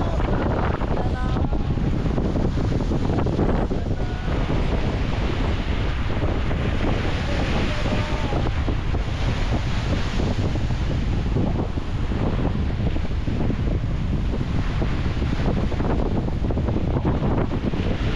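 Rough surf crashes continuously close by on the Mindanao coast while strong wind from a forming low-pressure system buffets the microphone, a loud, unbroken roar of water and gusts.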